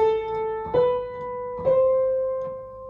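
A piano plays a scale legato using only the third finger and the sustain pedal. About four notes enter in steady succession, and each one rings on smoothly into the next with no gaps, close and clear without any talk.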